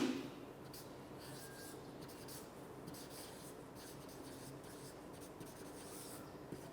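Marker or chalk scratches and rubs across a board in short strokes as a chemistry lesson is written out, close and fairly quiet, with low room murmur behind it.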